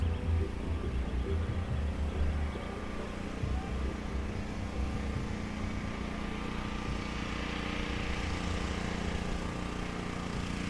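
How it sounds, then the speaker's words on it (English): A nearby engine drones steadily in the morning at Clearwater Beach's Pier 60 in Florida, a continuous low rumble with broadband noise that holds fairly loud throughout without clear revving. "I bet that engine noise isn't great."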